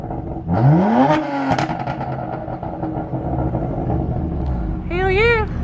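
A car fitted with an Active Autowerke equal-length mid pipe in Sport Plus mode revs hard, the exhaust rising loudly once, then rumbling on before a second short rev, with people talking over it.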